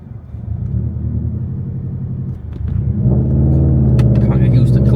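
A Subaru WRX STI exhaust drones in a deep, steady rumble nearby, rising slightly louder partway through as the engine pulls, while a voice talks over it.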